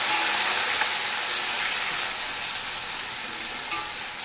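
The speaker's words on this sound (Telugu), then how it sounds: "ఇది బాగా ఫ్రై అవ్వాలండి" Onion, green chillies and tomatoes fry steadily in a pan, a dense continuous sizzle that stays close and even, fading slightly toward the end, with no talking.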